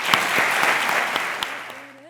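An audience applauds José on Andalusia Day: a dense, even patter of many hands clapping, moderately close, tapering off as a voice begins speaking near the end.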